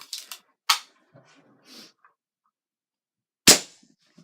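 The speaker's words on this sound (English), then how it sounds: "pump it 5 to 10 times" An Umarex NXG APX air rifle is being handled and pumped, heard as a few sharp, close mechanical clacks and snaps separated by quiet gaps, with some faint scraping between them and no talking.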